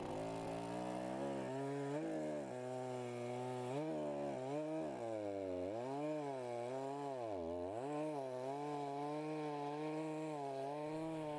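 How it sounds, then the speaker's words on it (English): Powerful chainsaw cutting a log into bowl blanks in a woodturner's workshop, a loud continuous buzzing engine whose pitch dips and rises as the chain bites into the wood, close up with no talk. "The powerful chainsaw will quickly cut each piece to size"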